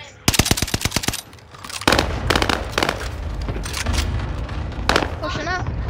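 SMG fire in the video game Warzone opens with a fast, loud burst of rapid shots, followed by further bursts and game noise, with a brief voice near the end.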